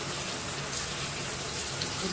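Water runs steadily from a shower tap in a home bathroom, a constant soft hiss and patter with no interruption and no voices.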